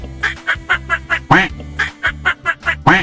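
A duck quacks repeatedly in short, loud bursts, about a dozen quacks in quick succession with brief gaps between them.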